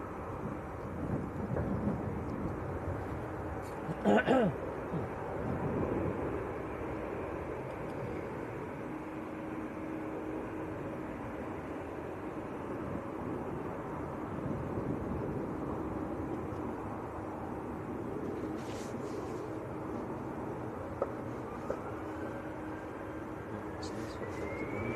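An EasyJet airliner at Manchester Airport rumbles in the distance as a low, broad roar that holds steady for a long stretch, with faint wind and a few brief clicks over it.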